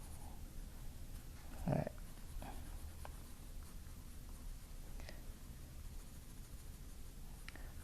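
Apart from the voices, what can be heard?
drawing with Staedtler 6B graphite pencil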